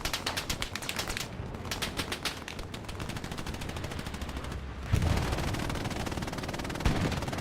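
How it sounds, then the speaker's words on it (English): Machine gun fire in the World War II shooter Hell Let Loose, fast rhythmic bursts of rapid shots, fairly close and sharp, stopping briefly between strings of rounds before a louder, denser stretch of gunfire and battle noise. "Here's an MG fire"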